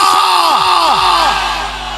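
A large crowd at a religious gathering shouts a slogan back in unison, a loud, sustained roar of many voices lasting about two seconds.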